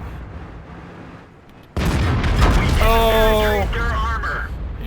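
High explosive shells striking an M6A2E1 tank in World of Tanks, heard as a sudden loud boom and crash after a quieter stretch, followed by ringing metallic tones and continuing game noise.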